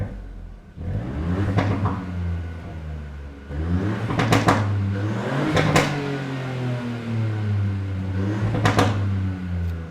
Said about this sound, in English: if I go into mode and put this car into racetrack mode or sport, listen to it.